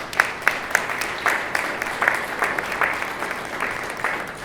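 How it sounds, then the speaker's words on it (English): Applause from an audience at a community event, a moderate round of claps with distinct individual hand strikes, steady for the whole stretch. "Let's give them a round of applause."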